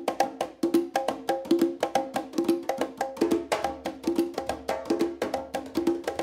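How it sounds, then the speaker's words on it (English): A looped section of conga drums played solo, with quick, bright hand strikes falling in a steady repeating pattern, close and dry, with no other instruments. "First, I took a section from the conga drums that I really liked, and I looped it."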